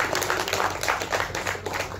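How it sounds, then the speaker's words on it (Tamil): An audience at a Tamil film audio launch for the movie Dexter claps: dense, even applause from a crowd fills the whole moment, loud and close, with only faint hints of voices. "முதல்ல அவருக்கு ஒரு பெரிய கைத்தட்டில் கொடுத்துருவோம்."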